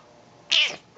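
A domestic cat gives a single short, bright meow, close and clear, rising out of a quiet room.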